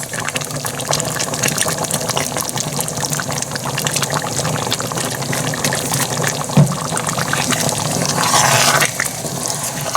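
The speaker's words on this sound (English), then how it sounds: "So now we're going to add some of our taco sauce." Taco sauce pours steadily into a pot of spaghetti, giving a continuous liquid splashing and gurgling that swells slightly toward the end.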